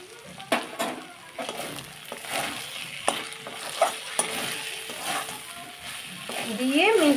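Garam masala powder and ghee stirred into a pan of murighonto, with a spatula scraping and knocking against the pan in irregular strokes over a soft sizzle, growing louder toward the end.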